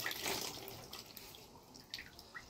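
Cold water trickles from a tap into a sink during a skin-firming mask routine, a faint, steady splashing with a few brief drips, quiet and close.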